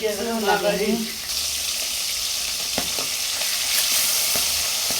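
Fresh fish pieces sizzle in hot oil in a pan, a steady broadband hiss running throughout with a few soft clinks from stirring or turning the pieces; faint voices are briefly present at the start.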